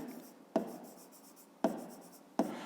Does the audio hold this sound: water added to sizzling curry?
no